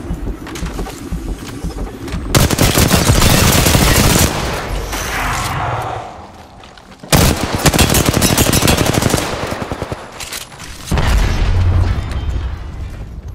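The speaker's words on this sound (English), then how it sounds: "Shots fired at me." Automatic weapon fire in Apex Legends, loud and close, with long sustained bursts of rapid shots broken by short pauses and heavy booming impacts.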